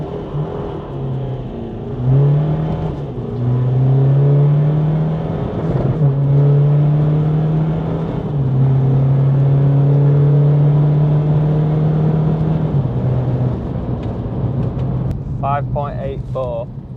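A 454bhp BMW 430d with the N57 diesel accelerating hard in manual mode during a drag race, rising engine drone stepping up through gear changes, loud and close, with talk over it.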